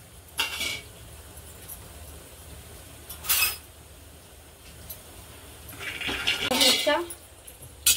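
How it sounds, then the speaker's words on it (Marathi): Fifty grams of peanuts dry-roasting in a pan rattle and clink in a few short bursts, with a longer scraping clatter near the end, over quiet background noise. "मी इथं 50 ग्राम शेंगदाणे घेतले, हे आपण भाजून घेऊया"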